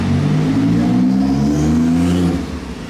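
A Bugatti Veyron with a non-original exhaust kit revs, its deep engine tone rising and holding steady for about two seconds before easing off, loud and close, with no talking.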